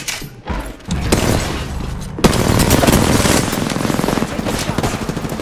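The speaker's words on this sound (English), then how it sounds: "I am taking fire." Video game gunfire: dense, rapid bursts of automatic fire and sharp shots crowd together loudly and almost without pause for several seconds, with a brief lull near the start.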